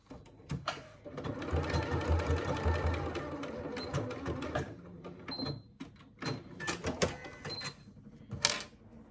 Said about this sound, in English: run a few stitches to hold those two short ends together